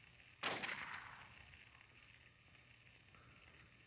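A single loud gunshot-like blast from the video game Silent Hill, with a sharp onset and a decaying tail over a quiet background hum, then another hit just at the very end.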